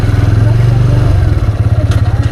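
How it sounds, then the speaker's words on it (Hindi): A motorcycle engine idles and putters close by on a muddy off-road track, a steady low rumble that turns slightly uneven and pulsing toward the end. "यहाँ जो ऑफ रोडिंग से थोड़ा सा आगे, कीचड़ से थोड़ा सा आगे मैं बाइक खड़ी करता हूँ।"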